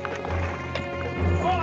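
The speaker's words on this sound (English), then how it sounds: "Men on horses." Horses approach on a trail in a 1960 Western drama, hooves clip-clopping steadily at mid distance with a brief whinny, under a low music score and a voice.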